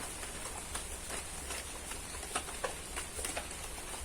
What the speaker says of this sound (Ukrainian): як крапельки стукають по листочкам актинідії